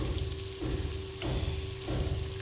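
Prawns sizzle steadily in a hot pan after being turned, a dense continuous frying crackle with a faint electric hum underneath and slight swells in intensity every half second or so, no voices.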